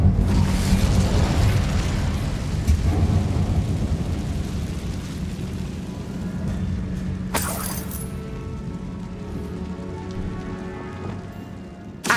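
An Incendio fire spell cast in the Hogwarts Legacy video game, a loud crackling, rushing burst with a sharp bright flare midway, sustained roaring texture like heavy rain or debris, no talking.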